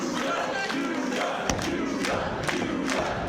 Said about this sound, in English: Got the crowd behind him.